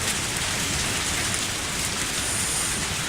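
Steady, dense video game rain pours down evenly throughout, a constant hiss with no other sounds.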